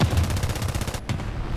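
Rapid machine-gun fire in War Thunder's realistic ground battle rattles at the player's tank as a fast, even burst of loud repeated shots, pausing briefly before resuming.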